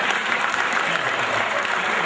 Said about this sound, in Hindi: मैं चाहता हूं कि आप अपने लिए तो ताली बजा लें एक बार।